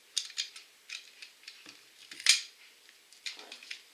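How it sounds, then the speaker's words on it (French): Adhesive tape being peeled off a package in a series of short, crisp ripping and crackling bursts with one sharper tear near the middle, close and fairly quiet, with no talking. "il va falloir que j'enlève le scotch"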